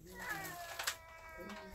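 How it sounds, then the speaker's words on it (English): A small house cat meows a couple of times, close and fairly clear, with a person talking over it. "It's a little kitty cat."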